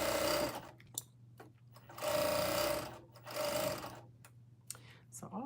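A home sewing machine stitches in three sustained whirring bursts separated by pauses filled with small clicks and handling noises, with a faint steady hum underneath.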